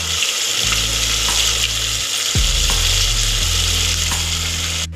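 Onion, tomato and ginger paste sautéing in a pan for village-style mint rice, giving a steady close sizzle with occasional stirring scrapes, no voices.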